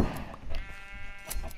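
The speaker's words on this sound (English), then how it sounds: "Okay, just shear some sheep." A sheep in the Minecraft video game bleats a couple of short, nasal cries over a brief stretch, fairly close and moderately loud.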